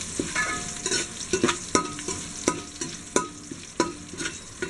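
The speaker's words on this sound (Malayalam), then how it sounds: "ഈ നെയ്യിൽ നമുക്ക് മൂപ്പിക്കാം." Cinnamon leaves and bay leaves frying in ghee for a beef biryani, a soft continuous sizzle broken by regular spoon scrapes and taps against the pan, close and fairly quiet.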